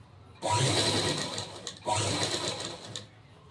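A sewing machine runs two fast bursts while stitching a lining strip onto a princess-cut blouse, each a dense, close mechanical whir of about a second and a half, separated by a short pause.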